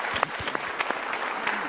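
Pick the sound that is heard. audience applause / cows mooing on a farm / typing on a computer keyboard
audience applause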